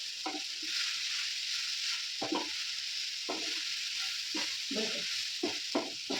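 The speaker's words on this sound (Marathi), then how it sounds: "आता ही इडल्या कापलेल्या ह्याच्यात टाकल्या आणि लगेच हलवायचं, म्हणजे सगळीकडं पसरतं." Cut leftover idli pieces stirred through spices in a hot pan, giving a steady frying sizzle broken by about eight short scraping strokes of the spoon at an uneven pace, close up and with no talking.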